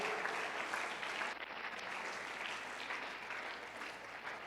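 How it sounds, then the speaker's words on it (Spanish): A church congregation claps together in steady, even applause, a dense wash of hands filling the room at moderate loudness and holding throughout. "Dale un aplauso al Señor Jesucristo"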